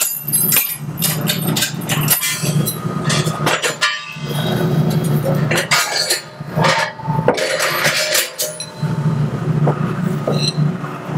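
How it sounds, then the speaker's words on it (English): A metal gas cylinder is loaded and moved on a hand cart built for cylinders, producing repeated loud metallic clanks, knocks and rattles with brief pauses in between. "We still want to put it on the hand cart, made specifically for gas cylinders,"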